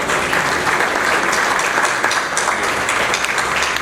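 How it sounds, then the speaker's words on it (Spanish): Loud, dense applause from a seminar audience in Trujillo, Peru welcoming a guest speaker at an internal auditing talk, continuous and close throughout with no voices. "Recibamos pues un fuerte aplauso a nuestro amigo Dante Navarro"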